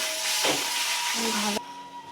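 Paneer frying in a hot pan for a home-cooked offering: a loud, steady sizzling hiss close by that cuts off sharply partway through, leaving a quieter hum.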